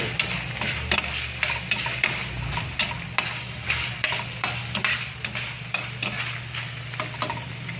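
Vegetable oil sizzling in a pan on the stove for sautéing, with a steady frying hiss and repeated scraping clicks of a spatula stirring in an irregular rhythm, close and fairly loud.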